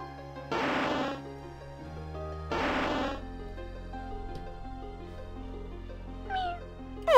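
Two distinct cat meows from Pokémon Insurgence, a second or so apart, ring out over a quiet, sustained synthetic tone, followed by faint chirps near the end.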